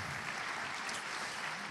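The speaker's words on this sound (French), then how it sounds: "On l'applaudit bien fort." A conference audience applauds a winner with a brief, faint, distant wash of steady clapping from a large room.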